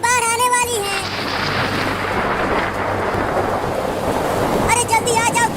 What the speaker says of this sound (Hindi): मम्मी बादल गरज रहा है और बिजली भी गिर रही है।